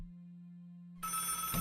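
Telephone ringing in The Unique Adventure, a narrative indie video game: a steady electronic tone is followed by a loud, bright, trilling ring that sounds alone with no speech.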